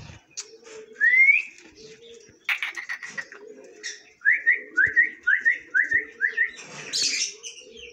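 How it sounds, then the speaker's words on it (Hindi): The female parrot of a breeding pair whistles close by, first with one rising call, then a quick rhythmic run of about seven short rising whistles, while low cooing sounds come in between. "ये मादी इधर बैठी हुई है और सीटियां मार रही है। अभी सीटी पे आवाज़ भी दे रही है।"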